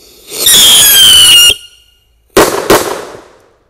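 Two rocket firecrackers buried in the ground ignite together, giving a loud shrill whistling hiss for about a second, then after a pause two sharp close blasts in quick succession with a short rumbling tail.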